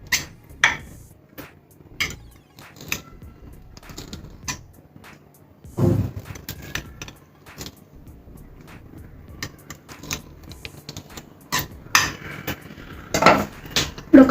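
A knife scrapes and taps around the edges of a chilled mango burfi dish, giving scattered sharp clicks and short metallic scrapes with quiet pauses between them and no talking.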